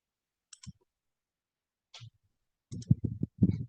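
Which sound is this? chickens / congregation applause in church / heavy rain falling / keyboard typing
keyboard typing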